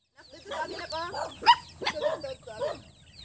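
Farmyard chickens cluck in a rapid, uneven series at close range in a rural countryside setting, with a sharp squawk near the middle and some faint voices mixed in.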